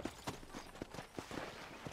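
Horse hooves clip-clop at a steady walking pace in the video game Red Dead Redemption, a run of evenly spaced, fairly close thuds over a low background.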